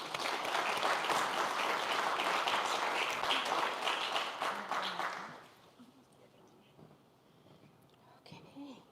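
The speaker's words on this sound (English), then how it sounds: "Please join me in giving a round of applause for her" Audience applause at a New York State Commission on African American History meeting: loud, full clapping for about five seconds, then dying away to a quiet room with faint murmuring.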